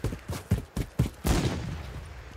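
Sniper gunfire in Call of Duty: Modern Warfare 3, a rapid run of five or so sharp booming shots followed by a longer rumbling blast that fades out.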